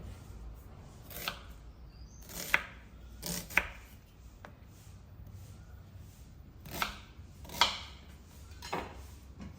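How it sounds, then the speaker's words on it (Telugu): A knife roughly chops onions on a board in scattered, sharp thuds, a few strokes spaced irregularly, fairly quiet with low background noise. "ఈ మొదలు తీసేయాలి ఇలా తీసేసి మంచిగా రఫ్లీ చాప్ చేసుకొని"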